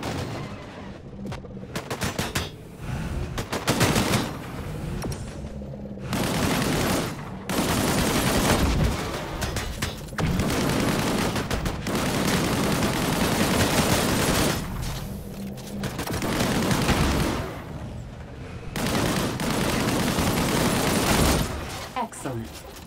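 Bursts of rapid automatic gunfire from a primary weapon in the video game Disintegration come in several long, loud volleys separated by short pauses, with battle noise and voices underneath.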